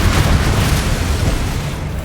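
A Confringo fire spell detonating in the Hogwarts Legacy video game, a loud, dense, rumbling blast that fills the whole moment and slowly tapers off.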